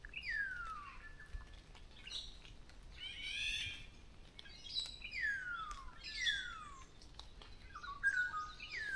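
Birds in a forest canopy give repeated descending whistled calls mixed with chirps and squawks, moderately near and fairly faint over a quiet background, with no talk.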